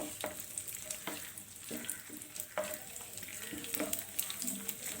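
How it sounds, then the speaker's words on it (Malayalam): Raisins and cashews fry in hot ghee in a pan, a soft hissing sizzle with repeated scraping stirs and light knocks of the spoon, fairly quiet and close. "എടുത്തു വച്ചിരിക്കുന്ന കിസ്മിസും കാഷ്നട്ടും ഇട്ട് ഒന്ന് ഫ്രൈ ചെയ്തെടുക്കാം."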